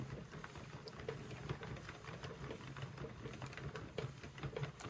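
Basic knitting machine spun by hand, giving a steady mechanical whirring and clicking patter that runs continuously throughout at moderate loudness, with no talk.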